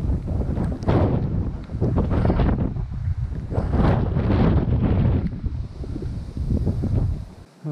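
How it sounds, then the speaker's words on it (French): Loud, continuous wind buffeting a microphone outdoors, gusting and rumbling with no voices. "Ok, donc pas mal de vent autour."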